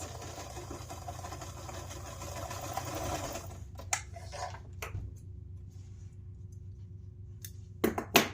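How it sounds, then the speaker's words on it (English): A sewing machine stitches straight across a zipper end. Its steady buzzing motor is close for the first few seconds, then gives way to quieter handling, a faint hum and a few clicks at the end. "I'm going to place this over the top, and I'm just going to sew straight across."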